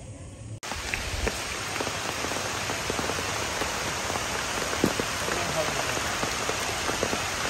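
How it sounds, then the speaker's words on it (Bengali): Rain falls steadily on the Mathabhanga river while the sun shines, a dense, even patter of drops that stays close and constant after a brief quiet start. "রোদ হচ্ছে, বৃষ্টি হচ্ছে।"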